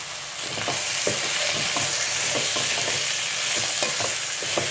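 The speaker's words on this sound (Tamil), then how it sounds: "தக்காளி நல்லா வதக்கியாச்சு" Tomatoes sautéing in a pan with curry leaves and potatoes, a continuous close sizzle punctuated by regular scraping stirs, no talking.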